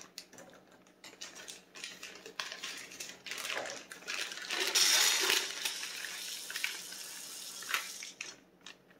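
White chocolate chips from a 24-ounce bag pour into a cooking pot, making a steady rattling, crunchy patter that swells into a denser clatter midway before tapering off, with no voices.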